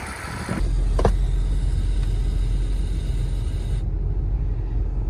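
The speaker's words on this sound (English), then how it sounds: "Let's do some rev up, guys. Feel really good. Yeah, that noise." A turbocharged Acura Integra's B18 engine idles as a low, steady rumble, with a brief sharp knock near the start and a constant hum carrying through.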